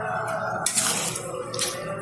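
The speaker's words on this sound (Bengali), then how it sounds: "এখন দিয়ে দেবো খুব অল্প পরিমাণে জল।" Small amount of water poured into a pan of chicken curry cooked in little oil, a brief splashing pour with two bright bursts over steady frying sizzle, close and fairly loud.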